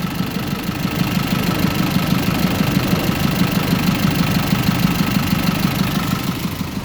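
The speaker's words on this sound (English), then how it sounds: "There you can hear the engine." A 2005 GMC box truck's engine idles steadily up close, a continuous low rumble with a faint rattling knock running through it, alone without any talk.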